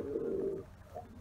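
Ankara tumbler pigeons in a coop give a low, steady coo for about half a second, followed by quieter murmuring and a short second coo, close by and with no talking.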